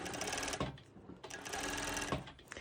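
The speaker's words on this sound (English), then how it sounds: "I will start a little bit slower to see that my machine is actually catching the fabric, and it is. Now I can go a little bit faster." A sewing machine stitches fabric for a sporty top, running in steady rapid bursts with a brief pause before picking up again, close and fairly loud.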